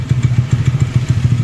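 Yamaha NMAX scooter engine fitted with a 65 mm bore-up piston and a low exhaust, idling up close with a steady, loping, thumping pulse and no other sounds.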